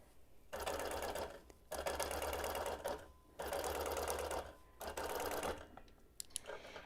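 A sewing machine runs a basting stitch along the outer edge of a quilt in several bursts of rapid, even stitching, close and clear, separated by short pauses.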